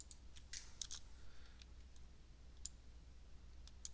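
Scattered keystrokes on a computer keyboard, a few quick light clicks spread apart over steady quiet room hum, close and fairly faint.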